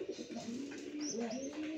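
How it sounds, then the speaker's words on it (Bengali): A big male pigeon coos softly, a low rolling throaty call repeated in short pulses, close by and fairly quiet with faint higher chirps behind. "পায়রার ডাকটা শুনলেই"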